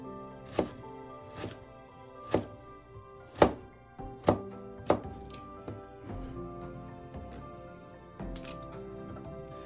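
A knife chops carrots on a cutting board in a series of sharp, irregular thunks, some loud and some softer, over steady background tones.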